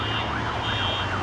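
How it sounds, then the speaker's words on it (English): Emergency sirens wail at a U16 football match, rising and falling in repeated sweeps over a steady traffic rumble, moderately loud and continuous with no talking over them. "Sirens everywhere."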